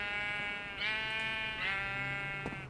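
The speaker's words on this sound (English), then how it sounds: "And another blue sheep" Blocky Minecraft sheep bleat in the video game, three drawn-out wavering cries in quick succession, loud and close with little else around them.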